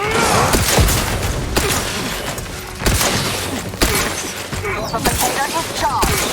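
Grenade explosion in the video game The Outer Worlds 2, set amid a noisy firefight: sharp booming bursts and shattering impacts recur every second or so, close and loud over constant battle clatter.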